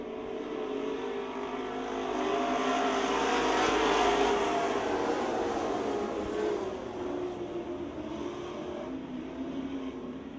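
Race cars roar around the Speedzone track during a night A-Main feature, a dense engine drone that swells as the pack passes close, then fades slightly into the distance.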